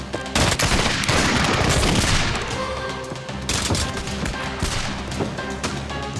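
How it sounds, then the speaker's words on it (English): Soldiers fire a musket volley, a loud close crashing blast followed by a rolling second round of shots and echoing reports, with no talk. "Make ready! Present!"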